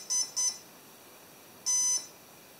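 An electronic speed controller for a drone motor sounds its calibration beeps: two short high-pitched beeps, a pause, then one longer tone, close and clear with no talking.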